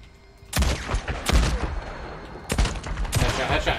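Gunfire in the video game Days Gone, several loud close bursts of rapid shots separated by short pauses, each burst a sharp crackling volley with ringing tails, no talking during the shooting.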